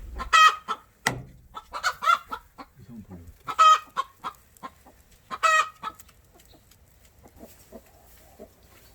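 A broody hen clucks and croons in short, repeated bursts close by while settling onto a clutch of eggs, with a few sharper calls among the softer murmuring.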